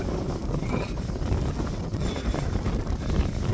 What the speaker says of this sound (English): what's that wind?